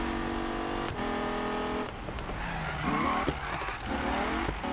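An SRT Viper in Need for Speed skids through a corner using the e-brake, tires squealing in long sliding tones over a loud engine drone, with a second squeal following after a short break.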